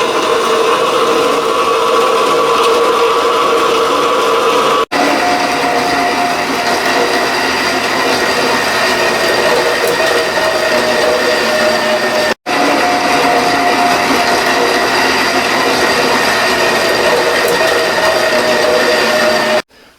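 A saw cuts steadily through 1/4 inch stock to take off a 2-inch-wide strip, a loud continuous grinding whine with two brief breaks in the cut and no talking.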